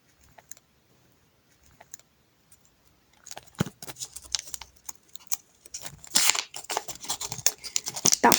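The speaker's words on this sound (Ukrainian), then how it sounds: "мені здається, що це дуже якийсь пустий пакет, але відкриваємо." Paper crinkles and tears close by as a package is ripped open, starting with faint rustles, then louder bursts of tearing and crumpling.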